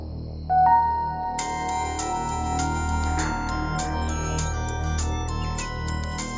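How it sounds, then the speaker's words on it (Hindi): A synthetic electronic melody of bright tones plays continuously, like a phone ringing, clear and fairly loud with no talking. "फोन तो उठा ले"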